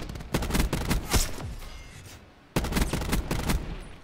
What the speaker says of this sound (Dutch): maar helaas schoot mijn teammate hem af